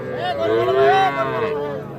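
A single drawn-out moo from a young bull calf, close and fairly loud, rising and falling over about two seconds.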